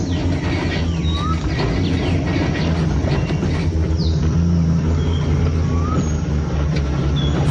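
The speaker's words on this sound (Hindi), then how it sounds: "इतना तेज मत चलाओ, रास्ता खराब है।" A car drives fast over a rough road in South Africa, giving a loud, continuous rumble and road noise throughout, with faint bird calls above it.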